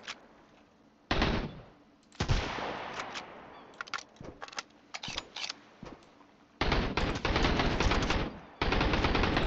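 Gunfire in the survival game Sunkenland, sharp single shots and rapid automatic bursts fired close by, with longer sustained strings of fire toward the end and quiet gaps between volleys.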